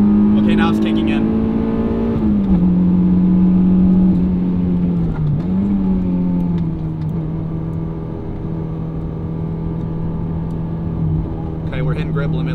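Honda S2000 engine revving hard while driving as VTEC engages, a strong steady drone with pitch swings as revs climb and settle, loud throughout with a person talking over it.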